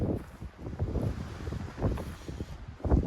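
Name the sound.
strong wind in the desert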